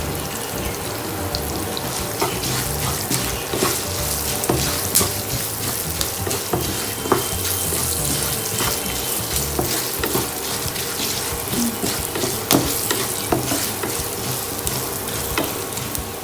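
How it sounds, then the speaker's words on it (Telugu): Seasoning of spices for flattened-rice pulihora sizzles and crackles steadily in hot oil in a pan, a close, continuous frying hiss with scattered pops and stirring. "తాలింపు వేగింది"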